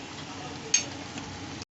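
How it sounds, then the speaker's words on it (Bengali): Mutton being sautéed in oil in a pan, a soft steady sizzle with a faint stir and clink of a utensil, quiet and close, no talk. "মাটনটা দিয়ে এবার মাটনটা কষবো খুব ভালো করে"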